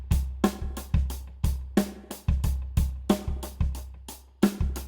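Dry, punchy acoustic drum kit from the Superior Drummer singer-songwriter EZX default set, playing a steady groove of kick, snare and cymbal hits, close and clear with no talking.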